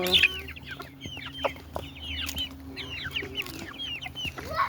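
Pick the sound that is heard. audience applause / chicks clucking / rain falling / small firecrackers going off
chicks clucking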